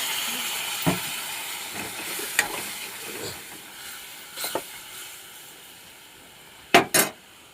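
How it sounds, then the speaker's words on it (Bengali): Spice paste with turmeric and salt frying in a pan, heard as a soft steady sizzle with a few sharp stirring scrapes and clatters, the loudest pair near the end, no voices. "এখানে মশলাটা আমার ভালো করে ভাজা হচ্ছে।"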